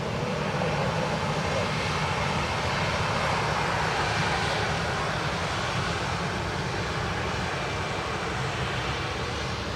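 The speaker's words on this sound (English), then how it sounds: "Aer Lingus from Geneva, already about to land." Aer Lingus jet from Geneva on final approach to land at Dublin Airport: a steady, loud broadband roar of engines lasting the whole clip with no break.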